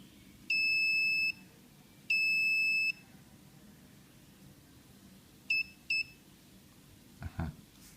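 Lucky FFW718 wireless fishfinder fish alarm sounding in the field as a large fish passes: two long steady high-pitched beeps followed by two short quick ones, loud and clear over quiet outdoor background, no talk.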